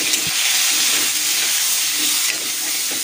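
Potatoes fry in a pan, giving a steady broadband sizzle and hiss that continues throughout with no breaks, close and moderately loud.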